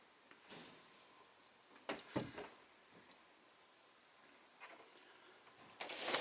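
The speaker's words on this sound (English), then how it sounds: "Sensible and space-saving door. Sliding door." A quiet sliding door in a motorhome rumbles along its track in a few short bursts, with a louder slide and bump at the very end.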